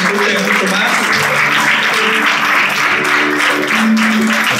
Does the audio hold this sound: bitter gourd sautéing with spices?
no